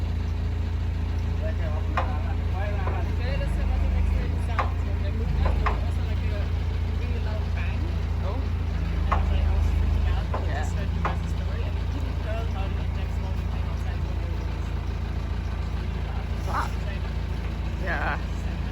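A boat trailer's hydraulic system, with air in the lines, makes a steady low mechanical drone broken by scattered sharp pops and clicks, heard close alongside people talking.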